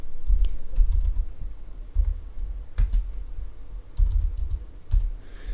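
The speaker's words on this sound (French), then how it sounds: "Alors attendez, je tape la commande d'abord." Keys clack on a computer keyboard as a terminal command is entered on Ubuntu, quick bursts of close, crisp taps separated by short pauses, with no talking.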